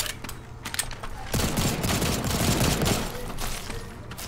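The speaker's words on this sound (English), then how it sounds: "He's using the shotgun." Shotgun blasts from an enemy in the video game Second Extinction, a dense burst of heavy gunfire swelling up after a quieter opening and rumbling on for a few seconds amid game noise.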